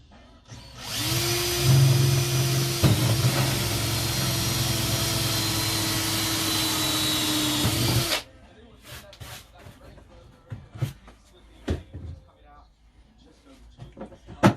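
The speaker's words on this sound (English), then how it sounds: "and then all I'm going to do is drill." A power drill whirs loudly and steadily for several seconds, close up, drilling a hole in a fishing box, then stops, followed by scattered clicks and handling noises.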